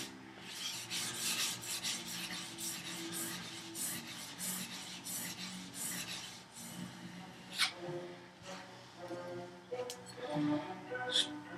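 A plane iron sharpened by hand with barely any pressure, a soft, steady rasping rub of steel on a stone in repeated strokes, close and fairly quiet, with faint background sounds.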